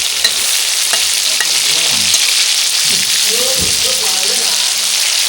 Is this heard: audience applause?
no